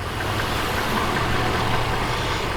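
A 2015 Mercedes-Benz G550 with its 5.5-liter V8 runs with a tuned exhaust, giving a steady, deep engine rumble at close range, even and continuous with no talk over it.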